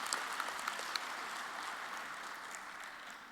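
Faint, distant audience applause in a conference hall after a panel session on food security in Africa, a soft continuous patter of many hands that gradually thins out.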